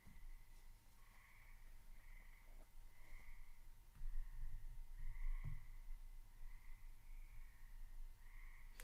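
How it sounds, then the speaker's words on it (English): Frogs croak outside by a backyard pond, a steady repeating chorus of pulsing calls spaced about a second apart, soft and distant against a low background hum. "Pot can hear the frogs outside"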